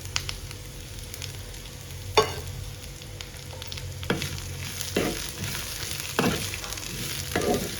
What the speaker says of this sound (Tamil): கொஞ்சம் நல்லா வதக்கி விட்டுக்கலாம்.